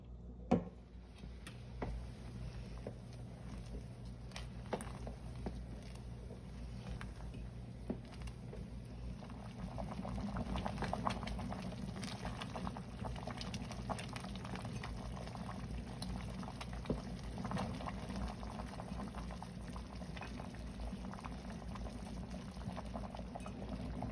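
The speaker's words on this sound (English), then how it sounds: "we're going to let this boil until the vegetables are soft" Carrot soup with ginger and vegetables boils steadily in a pot, a continuous bubbling simmer with small pops and ticks that grows slightly fuller partway through.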